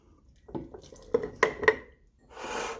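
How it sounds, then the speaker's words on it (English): Sourdough starter stirred in a container: a few soft scrapes and light clinks of a utensil against the sides, then a brief swishing stir, close and quiet, with no talking. "I'm just gonna give it a stir"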